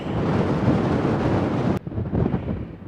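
Strong, steady wind of about 30 to 50 knots roars across a mountain ridge on the Continental Divide Trail, buffeting the microphone with broadband noise, cutting out briefly before gusting back just as hard.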